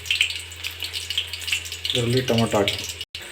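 Tomatoes are added to garlic browning in oil for dal sambar, giving a steady frying sizzle, with a short burst of voice partway through and a brief cut-out near the end.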